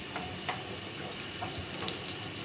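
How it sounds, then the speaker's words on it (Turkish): Carrots sauté in a pan of butter and oil with a soft, steady sizzle and a few faint stirring clicks, fairly quiet and close, no voices. "burada da az tereyağı, sıvı yağ koydum. Şöyle havuçlarımı koyuyorum ben önce. Şöyle azıcık sotelensinler."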